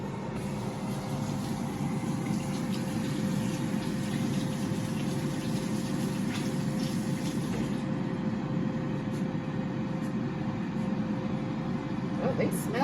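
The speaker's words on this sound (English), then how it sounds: "wash my hands" A kitchen tap running steadily while hands are washed during vegan zucchini dinner prep, a continuous close hiss of flowing water with a few faint clatters on top.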